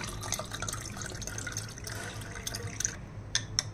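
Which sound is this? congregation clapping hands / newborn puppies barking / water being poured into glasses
water being poured into glasses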